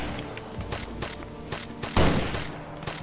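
Rapid bursts of rifle fire in the military shooter Arma 3, loud and close, several sharp volleys rattling in quick succession with one heavier burst near the end.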